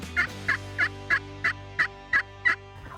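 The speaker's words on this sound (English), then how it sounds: "Maybe they just stop gobbling when you call them" Wild turkeys call in the Arkansas woods during a spring youth hunt: eight sharp, evenly spaced notes in a steady rhythm at moderate volume, with no voices.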